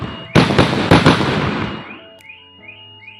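A close, loud volley of gunpowder firecracker blasts at a temple in Kodungallur cracks in quick succession, then dies away into a reverberating ring.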